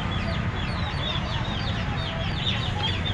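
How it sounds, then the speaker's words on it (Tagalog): Pom-pom chicken clucking steadily among farm-show fowl, repeated close clucks over a busy background murmur. "Ito pom-pom chicken."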